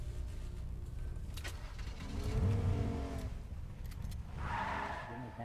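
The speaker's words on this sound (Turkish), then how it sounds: "Araba var." A car driving in the Fortnite video game, engine revving and rising in bursts with mechanical clatter and a skidding swell, heard alone and fairly close.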